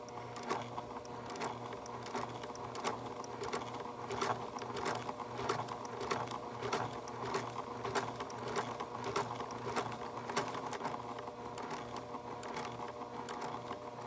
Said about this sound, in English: that's how we would sew the button on using the sewing machine